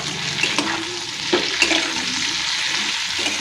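Pumpkin curry stirred in a pan after salt goes in, with a constant loud sizzle and a few sharp spatula scrapes against the metal.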